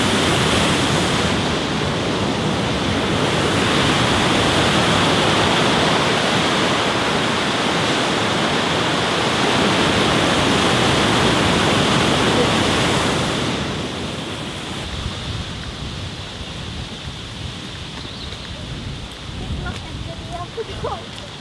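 A loud waterfall roars as a steady, dense rush of white water, close by and filling the scene, easing slightly toward the end with faint voices in the background.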